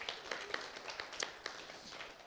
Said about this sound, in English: give Reels in Motion a big round of applause